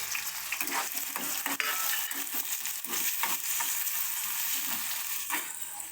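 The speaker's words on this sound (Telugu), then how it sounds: "నూనెలో మంచిగా వేగాలి" Onions frying in oil in a pan for tomato rice, a loud continuous sizzle with crackle and stirring scrapes throughout.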